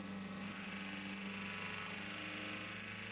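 A diesel race car engine idling at the Le Mans 24 Hours, a steady, dense mechanical drone with a constant low hum and even vibration, close and continuous without talk.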